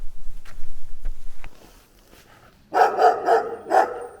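After a few thuds and a short quiet gap, loud deep barks from two large dogs ring out in a quick series of four or five, fairly close, in Cappadocia, Turkey.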